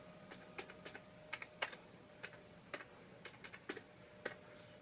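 Keys clack on a computer keyboard in short, irregular bursts of separate taps, quiet and close in a calm indoor room with no talking.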